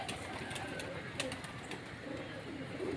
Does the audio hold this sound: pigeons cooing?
yes